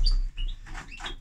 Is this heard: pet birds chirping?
yes